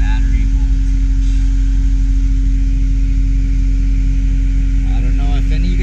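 A CAT 272 skid steer engine idles at elevated speed with a steady, loud, low drone and hum, while someone talks over it throughout.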